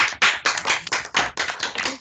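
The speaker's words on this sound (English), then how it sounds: "please give our speakers a big round of applause" Webinar attendees with microphones unmuted clapping for the speakers, a few close, distinct bursts of hand claps in an uneven rhythm, loud and sharp, with no voices.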